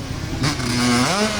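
A Honda CRF150 dirt bike engine rises in pitch as it revs through a brief acceleration, close and fairly loud and steady, with no talk over it.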